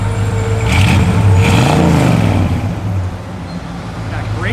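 A 1972 Chevrolet Malibu engine revs up once near the middle, with its rising drone rolling back to a steady idle, close and loud against a constant rumble.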